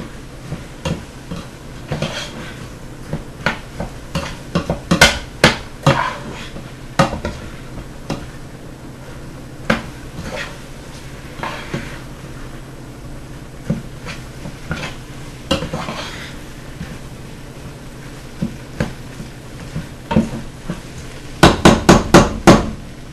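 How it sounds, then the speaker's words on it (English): Rice being stirred in a pot on a stove turned up to high heat, with a utensil knocking and scraping against the pot in irregular clanks, close and fairly loud, ending in a quick burst of rapid knocks. "Stir the rice in well, make sure it gets coated."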